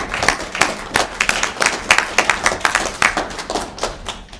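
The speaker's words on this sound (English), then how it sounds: "accept our applause for all the work she's done to make this happen" A lecture audience claps in steady, dense applause at close range, many hands overlapping in a continuous patter for about four seconds with no voices over it.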